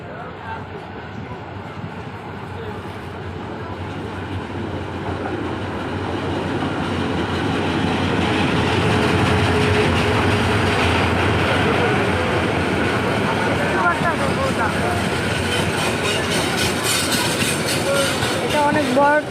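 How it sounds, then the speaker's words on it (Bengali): A large passenger train running between Dhaka and Chattogram, its roof crowded with people, rolls past at a station stop with a loud, sustained rumble and rattling wheels, swelling gradually as it comes through, with voices mixed into the din. "এটা অনেক বড় ট্রেন।"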